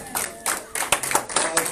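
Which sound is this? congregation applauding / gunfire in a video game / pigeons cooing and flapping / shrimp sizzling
congregation applauding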